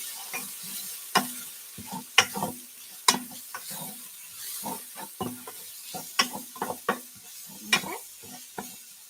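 Onions sizzling in a frying pan for hamburger steak, with a soft continuous fry hiss broken by repeated sharp scraping stirs of a utensil against the pan, close up.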